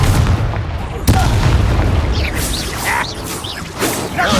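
A Confringo explosive spell from the Hogwarts Legacy video game, with a sharp blast around one second that rolls into layered booms and whooshing combat effects while a voice speaks over the din.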